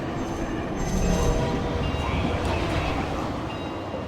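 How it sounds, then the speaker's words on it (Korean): A train rumbles steadily toward the listener in a StarCraft II co-op mission, a dense, constant roar of rolling wheels and machinery with faint squealing tones. It sounds alone and fairly loud throughout. "두 번째 열차가 접근하는 것을 감지했다."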